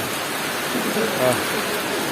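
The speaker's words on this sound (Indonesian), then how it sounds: "Tadi terang tapi sorenya hujan." Steady heavy rain falling during an outdoor school futsal tournament, a loud, even wash of hiss filling the whole stretch with no breaks, and a voice briefly audible underneath.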